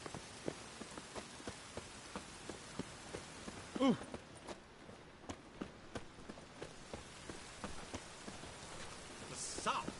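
Steady rain hisses in a PS4 game, with regular soft thuds like footsteps or drops patting under the even wash, and a brief vocal exclamation partway through.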